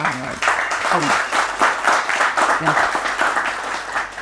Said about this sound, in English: please make a round of applause for